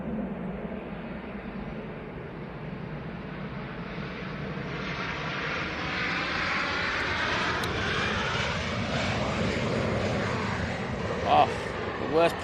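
A KLM airliner's jet engines roaring at Manchester Airport, a steady loud rush that swells slightly as the plane passes, with a voice talking over it at times.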